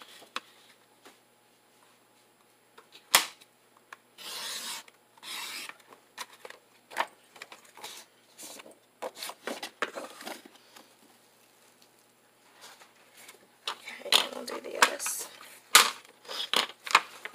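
Scissors cut through junk journal cover material in close, irregular bursts of rasping snips separated by quiet pauses.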